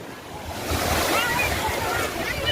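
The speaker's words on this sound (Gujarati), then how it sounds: "ખૂબ જ સરસ મજાનો જે સમુદ્ર તમે જુઓ તો કુકવાટા મારી રહ્યો છે" Sea waves at Gopnath on the Gujarat coast surge onto the shore, swelling into a loud rushing wash that stays full and breaks apart in churning foam.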